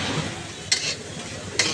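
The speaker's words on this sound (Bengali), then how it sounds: "এবার ডিমের সাথে চিকেন যেগুলো ঢেলে দিল" Chicken and egg stir-frying in a pan for chow mein at a cafe, a soft steady sizzle broken by two sharp metallic clanks of a spatula.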